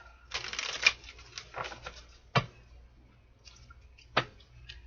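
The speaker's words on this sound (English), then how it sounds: "2 more shuffles." Several crisp bursts of cards being shuffled, two longer riffles followed by a few sharp single snaps, fairly close and with no talking.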